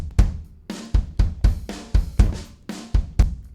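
Punchy EzDrummer kick drum hits with EzMix effects in Logic Pro 11 repeat in a steady beat, each thump followed by a short ringing tail, loud and close with no talking.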